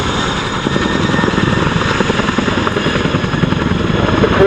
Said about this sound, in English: Forget the revs of F1, CJ, the best noise in the world is that bit of blade slap.